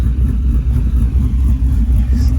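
A 6.0 LQ4 truck engine with 799 heads and a BTR Truck Norris cam, loaded for towing, rumbles close and loud in a steady, choppy idle.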